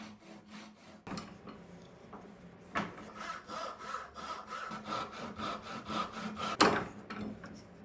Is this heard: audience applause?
no